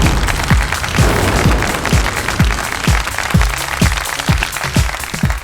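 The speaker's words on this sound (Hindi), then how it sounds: "अब तालियों के साथ स्वागत कीजिए हमारी पहली कंटेस्टेंट का" An audience claps to welcome a contestant, a dense continuous patter of applause layered with a steady series of low thumping beats, loud and close with no talk over it.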